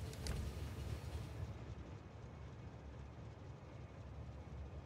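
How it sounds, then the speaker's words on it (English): A train from the Factorio video game rolls along steadily, a low continuous rumble with a brief brighter hiss at the start, fairly quiet and heard alone. "that's an extra green circuit train."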